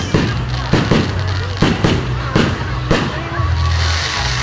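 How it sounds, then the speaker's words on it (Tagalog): Fireworks at a Christmas lights opening in Pantukan, Davao de Oro bang repeatedly at close range, about six sharp explosions spaced under a second apart, with a low rumbling crowd and ambient noise beneath. "Pinaka-amazing fireworks."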